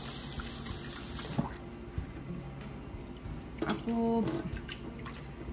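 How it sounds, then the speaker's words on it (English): Water running and splashing while rice is washed for a rice cooker, a steady close trickle with occasional clinks and a voice speaking briefly. "I wash the rice and then measure"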